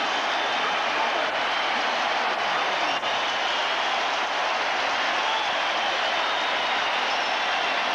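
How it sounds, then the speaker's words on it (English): A packed football stadium crowd at a 1990 Raiders at Bills game roars after a touchdown, a dense, continuous wash of cheering held at a steady loud level for the whole stretch, with no distinct voices standing out. "Listen to this crowd."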